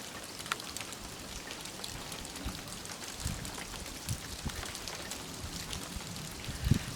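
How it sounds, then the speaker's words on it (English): Rain patters steadily on a rainwater cistern on a wooded rural property, a dense hiss of drops broken by sharper, hail-like ticks and a louder hit near the end, with no voices. "That almost sounds like hail or something."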